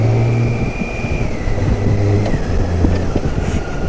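A motorcycle engine revs and drops steadily through clutchless gear changes, the pitch rising, dipping and shifting as the bike runs near and loud from start to end.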